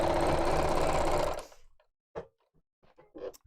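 A sewing machine runs steadily while stitching through thick bag seams, then stops abruptly; a few faint, scattered clicks and handling sounds follow in the quiet.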